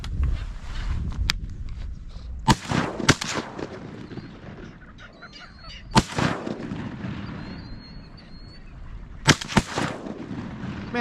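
Gunshots from a hunt for gallinule birds in marshy brush, several sharp loud cracks spaced apart, with some in quick pairs. Quieter rustling and ambient noise fill the gaps.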